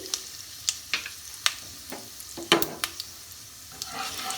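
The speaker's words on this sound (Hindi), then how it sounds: "मसाला को कुछ सेकंड्स भूनना है।" Whole spices with asafoetida fry in mustard oil in a pan, giving a low crackling sizzle broken by a series of sharp clicks and scrapes from stirring, close and fairly quiet.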